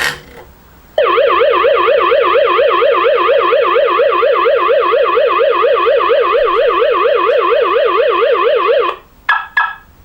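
An Aqara vibration sensor triggers a Xiaomi control hub alarm: a loud electronic siren wails in a rapid rising-and-falling pattern for about eight seconds, then cuts off, followed by a few short beeps.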